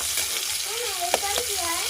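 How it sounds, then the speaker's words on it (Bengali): Capsicum frying in a pan after paneer, a steady close sizzle with a sharp clatter of stirring near the middle, no one talking. "ক্যাপসিকামটা এখানে ভাজছি"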